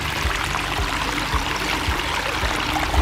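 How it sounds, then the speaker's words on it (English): Running water trickles and splashes steadily over a pondless backyard waterfall, a continuous close rushing wash with no voices. "to be able to bring a little bit of the sound of the trickling and the running water"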